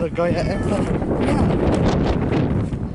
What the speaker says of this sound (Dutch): En het is ook heftige wind.